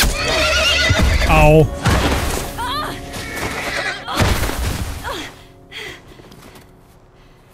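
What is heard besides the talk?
horse neighing in The Last of Us Part I video game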